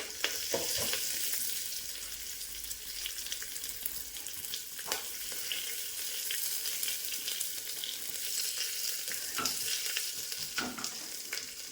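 Fennel seeds, dried red chillies and curry leaves fry in hot oil with a steady crackling sizzle, punctuated by occasional louder pops and stirring scrapes.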